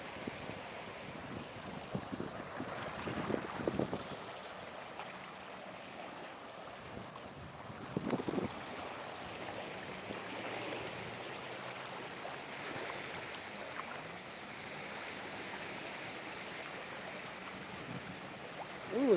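Faint surf rolls onto a Thai beach in a soft continuous wash, mixed with gusty wind buffeting the microphone, distant and without voices.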